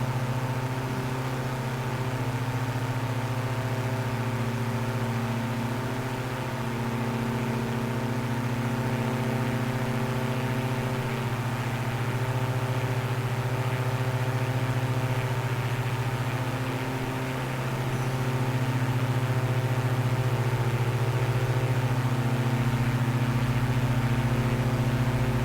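A light aircraft's engine holds steady at cruising revs around 150 to 160 knots, a loud continuous droning hum with a stable pitch that shifts slightly partway through, with no talk.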